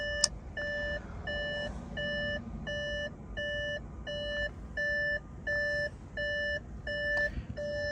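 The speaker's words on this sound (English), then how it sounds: "Shut the beeping off on these Audis." A regular electronic warning chime from an Audi A6 3.0 TDI diesel (C7) beeps repeatedly at an even pace, fairly quiet against a low engine hum.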